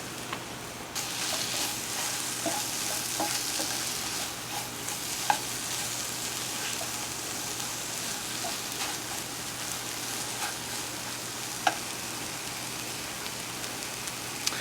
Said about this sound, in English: Look how beautiful these peppers and onions are sauteing down too.